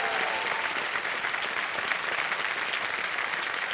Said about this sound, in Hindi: तो एक बार फिर तालियां बजाएं।